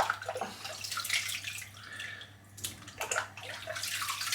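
A synthetic shaving brush is rinsed under a running tap, water splashing and gurgling unevenly, briefly easing off mid-way before surging again, close and moderately quiet with no talking.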